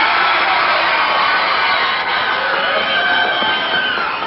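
Wrestling arena crowd cheering for Tommy Prichard, a 222-pound wrestler from Houston, Texas, facing the Cuban Assassin; a dense, steady roar of many voices fills the hall without pause, loud and unbroken throughout.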